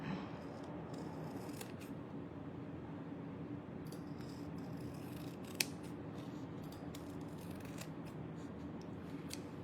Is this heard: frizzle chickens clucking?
no